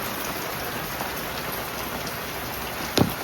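Steady rain falling from above at a home, a continuous even hiss of water with one brief louder splash near the end; no voices.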